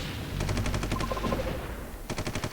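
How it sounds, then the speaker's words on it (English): Artillery and gunfire in the Vietnam war strategy game Supreme Ruler 2020: two rapid bursts of repeated firing, the first longer and a second after a brief pause, moderately loud with no voices. "And artillery this time."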